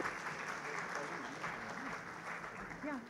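Audience applause at a maritime awards ceremony, a dense wash of clapping with a voice speaking over it through much of the stretch.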